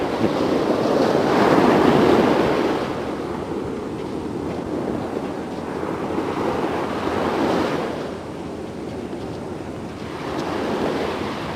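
Pacific Ocean waves breaking on the shore, loud rolling surges of surf that swell and recede every few seconds, with wind buffeting the microphone and no voices.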